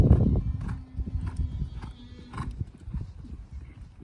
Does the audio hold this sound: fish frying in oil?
no